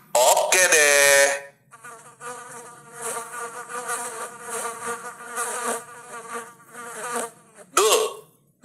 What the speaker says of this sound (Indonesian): di sini banyak lalat ya?